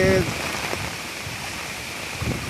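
Rain falls steadily over a village, a dense even patter with a few louder drops, no voices.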